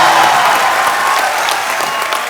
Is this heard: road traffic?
no